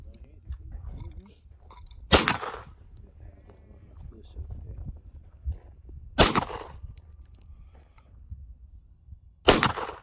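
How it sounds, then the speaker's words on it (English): Handgun shots at an outdoor shooting range, three sharp loud single reports spaced a few seconds apart, with casual talk and background chatter between shots. "What is that Tor shooting?"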